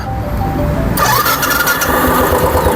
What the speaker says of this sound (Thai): สตาร์ทไฟฟ้าปุ่มสตาร์ทอ่า